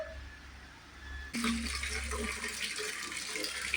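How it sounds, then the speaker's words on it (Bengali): Water from a household tap, filling a vessel for a home shrine, starts abruptly after a quiet moment and then runs as a steady, fairly close rush that lasts to the end. "এবার আমি এখন ঠাকুরের জল ভরতে যাচ্ছি"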